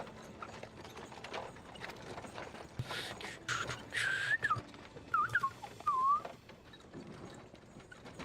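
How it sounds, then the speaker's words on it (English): A person whistling short, wavering melodic notes, fairly soft and broken into a few bursts, over a busy background of clip-clop hooves and mechanical clicking from a game. "I wonder if my mic actually picks it up when I'm whistling"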